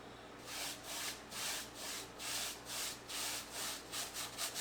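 An oil-painting brush rubs back and forth across canvas in a steady rhythm of soft, scratchy strokes, about two per second, close and fairly quiet.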